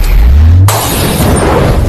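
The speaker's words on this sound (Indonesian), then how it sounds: "spontan lampu-lampu di dalam gudang itu meledak" Lamps bursting inside a warehouse in a film scene: a low droning hum cuts off abruptly into a loud, broad explosive blast that continues as dense crackling noise.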